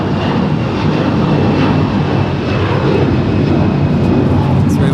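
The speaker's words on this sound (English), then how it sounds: "Polar Air Cargo Flight 315 has been cleared for departure." A Polar Air Cargo Boeing 777 freighter departs Los Angeles International Airport with a loud, close, unbroken jet engine roar that holds steady throughout.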